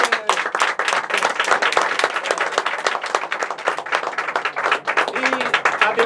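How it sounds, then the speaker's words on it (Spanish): Audience applause fills a tango event in Taipei, a dense crowd of clapping holding steady and loud throughout with no pauses. "vamos a dar un aplauso para él, Daniel."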